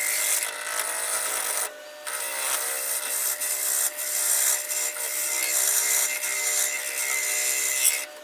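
A chisel cuts a tenon on a piece of wood spinning on a lathe at low speed, a continuous close hissing scrape that holds steady with a few brief dips, and no talking.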